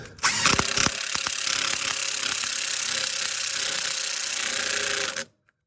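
A ratchet rapidly clicks as it tightens a nut on a sway bar bushing of a 1991 20V Audi Avant, one continuous fast run of close, loud ratcheting lasting about five seconds, then stopping abruptly.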